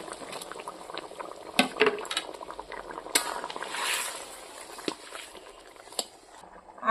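Fish curry broth at a boil, with a fish head and raw banana fritters added, bubbling softly while utensils clink and knock against the pot in scattered sharp taps.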